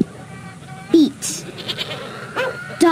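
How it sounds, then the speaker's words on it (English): Several sheep bleats from a children's painting and writing video game, short wavering cries repeated close and loud over about three seconds. "Sheep, sheep, sheep."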